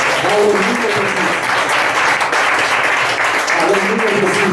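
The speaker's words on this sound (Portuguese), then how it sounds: "E por isso nós vamos aplaudir o nome do Senhor." A church congregation applauds loudly and continuously, a thick, steady roar of many hands clapping, with voices calling out over it.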